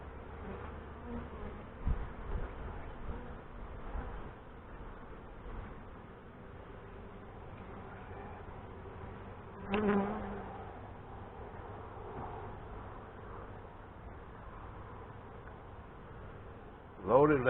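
Honey bees hum as a steady, fairly faint drone while a hive is opened and inspected, with a few brief clunks and knocks of frames.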